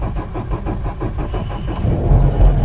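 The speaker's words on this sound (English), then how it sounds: "Symptom number 7, delayed engine crank." A car engine cranks over with a steady, rapid starter rhythm for about two seconds before catching and rising into a louder running roar, the delayed start blamed on a faulty coolant temperature sensor.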